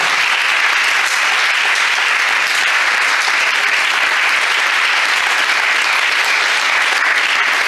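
A church congregation at a Sunday service applauds steadily for the Lord, a loud, dense and sustained clapping of many hands with no pauses.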